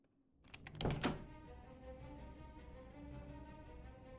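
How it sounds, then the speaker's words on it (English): A locked door in a video game gives a soft, muffled thunk, a short cluster of knocks followed by a low hum in the quiet background. "The door was locked again."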